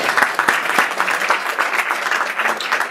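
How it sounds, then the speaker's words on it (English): An audience at an introductory lecture breaks into applause, a dense, steady patter of clapping hands from a modest crowd filling the whole stretch, with no speech over it. "A little applause."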